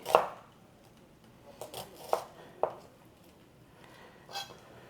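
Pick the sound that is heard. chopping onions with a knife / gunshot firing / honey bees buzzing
chopping onions with a knife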